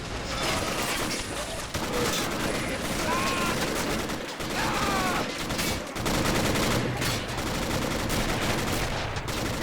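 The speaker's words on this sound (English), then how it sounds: "Watch out for that heavy machine gun" Dense, continuous game battle soundscape on an amphibious beach assault, with rattling gunfire bursts and mechanical clatter that fits a German MG34 heavy machine gun firing in a video game, loud throughout with occasional faint voices.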